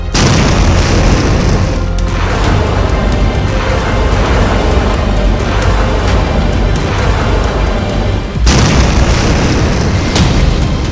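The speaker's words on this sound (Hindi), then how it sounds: "जब ईरान की ये मिसाइल अपने टारगेट पर गिरती है तो धमाका ऐसा होता है।" An Iranian Fateh-110 missile explodes on its target with a loud, sustained roaring blast, a dense rumbling boom that stays at full intensity for about ten seconds, dips briefly, then surges again.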